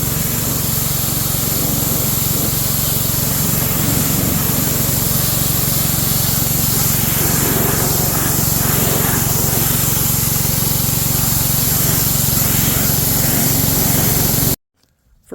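Continuous spraying underneath a 2005 Ram 1500 4x4 pickup and into its tire wells gives a loud, steady hiss over a droning motor, running unbroken for about fifteen seconds before cutting off abruptly.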